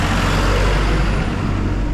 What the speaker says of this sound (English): okay, that's actually a bus